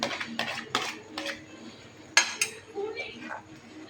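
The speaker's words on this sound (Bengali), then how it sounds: "এবার এটা আমি একটু নেড়ে দিচ্ছি ভালো করে, খুন্তি দিয়ে নিচ থেকে যাতে লেগে না যায়" Spices and tomato paste are stirred with a spatula in a pan, giving a few sharp metallic scrapes and clinks close by, spaced irregularly over a few seconds.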